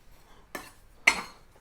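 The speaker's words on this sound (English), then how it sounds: "First we get a pan, preferably non-stick, but I don't have a non-stick pan" A cast iron pan is set down in a home kitchen with two brief metallic clanks, the second louder, close and alone without talk.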